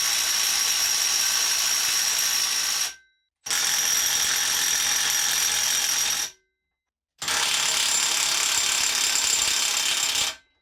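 A Makita DTW300 18V cordless impact wrench tightening and then loosening a nut hammers in three loud, steady bursts of rapid rattling, each lasting about three seconds and separated by brief silences.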